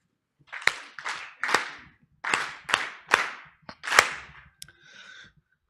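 Claps from an audience at a public service day event come in sharp, separated bursts, each a loud crack trailing into a brief patter, about seven bursts with short silent gaps.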